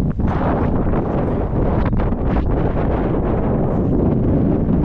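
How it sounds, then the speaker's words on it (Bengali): Wind blows steadily on an open hillside, buffeting the microphone with a constant, close, rumbling roar that never lets up. "ও কি সুন্দর বাতাস ওরে রৌদ্র তারপর বাতাসটা খুশি"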